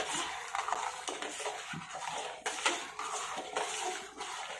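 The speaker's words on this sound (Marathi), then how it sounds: "साखर विरघळेपर्यंत असं मधून अधून हलवत राहायचं, नाहीतर मग साखर खाली तळाला चिटकून बसते" A spoon stirs sugar into boiled milk in a pot, giving a soft, continuous swirling and scraping sound at low volume with a few light clinks and no voices.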